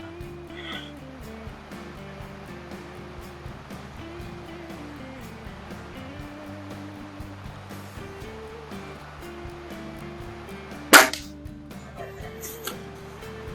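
A Slavia CZ Model 631 air rifle fires a single sharp shot at 25 yards, a brief crack rising out of a steady tonal background hum, with a faint quieter tap just after.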